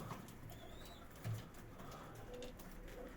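Faint, soft pigeon coos sit low in a quiet outdoor scene, with a brief flutter partway through.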